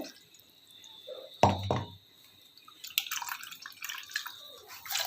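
Grated coconut is squeezed by hand to press out coconut milk, giving a brief wet splash and then soft dripping and trickling liquid, close up and quiet, with no talking.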